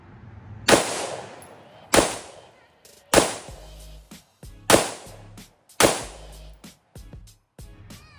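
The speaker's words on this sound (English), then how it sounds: "that was 5 shots unsuppressed" Five unsuppressed shots from an MK18 rifle crack out loud and near at roughly even intervals a little over a second apart, each followed by a short echoing decay, with faint clinks of brass between.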